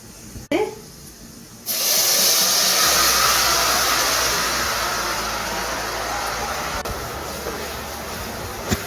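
Sugar syrup poured over fried dry fruits for jaggery rice bursts into a loud, steady sizzle right after a brief clatter, and the hiss fills the rest of the moment evenly.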